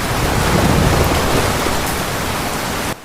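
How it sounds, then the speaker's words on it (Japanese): Heavy rain pounds down in a dense, loud, continuous roar of a thunderstorm downpour, with no voices, stopping abruptly at the end. "天が裂け、すべてを飲み込む激しい豪雨。"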